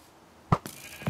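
Sheep bleats in a Minecraft-style video game, one short bleat followed by two fainter ones in quick succession, heard alone.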